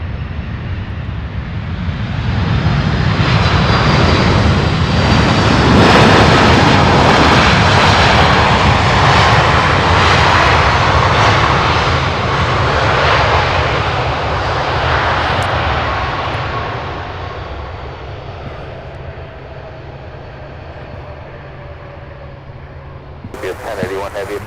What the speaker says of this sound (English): I do believe we have an MD-11 coming in on 17 left.